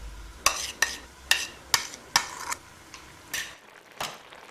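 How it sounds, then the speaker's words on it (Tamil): Yogurt goes onto frying tomatoes for chicken biryani and is stirred, giving about eight sharp, evenly spaced scraping strokes of a spoon against the pan over a low sizzle. Nobody talks. "இதுக்கு மேலே தயிர் ஊற்றிக்கோங்க."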